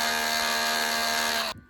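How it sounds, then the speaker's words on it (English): Dremel rotary tool spinning with an attachment, a steady high-pitched whine held for about a second and a half before cutting off abruptly, close and alone. "Now for a slightly different Dremel attachment."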